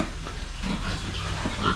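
Pigs on a small farm raising sows, grunting and oinking steadily at close range with a constant pen clamor behind them and no talk.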